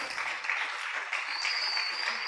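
A church congregation claps loudly during a service, a dense, steady wash of applause lasting the whole stretch.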